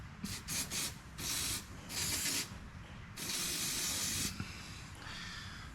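CRC spray lubricant squirted onto a part during mechanical work, several short hissing bursts and one longer spray, close and fairly loud, separated by brief pauses with no talk.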